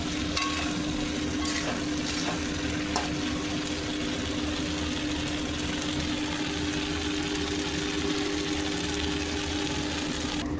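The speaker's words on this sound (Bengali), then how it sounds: "এরপর দেখো চিকেনগুলো একটু নেড়ে ফেড়ে নিচ্ছি।" Fried chicken pieces for chili chicken are stirred in a pan, a low steady sizzle with occasional scraping and a constant background hum.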